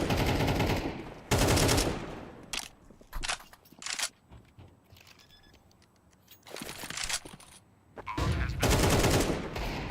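Bursts of AK rifle fire in a Counter-Strike esports match, loud broadband volleys at the start, near the two-second mark and again toward the end, with quieter single shots and game clatter in between.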